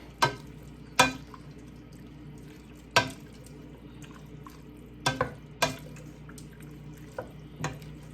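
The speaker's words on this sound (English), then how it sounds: "right now I'm going to put this ham bone broth in there." Ham bone broth is poured into a pot over medium-high heat and stirred, with a steady soft simmering hiss broken by several sharp clinks and splashy knocks at irregular intervals.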